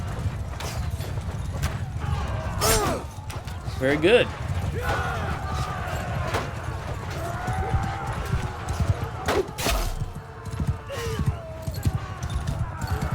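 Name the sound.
cavalry horses galloping in video game Mount and Blade II Bannerlord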